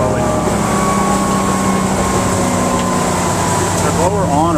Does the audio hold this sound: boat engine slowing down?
yes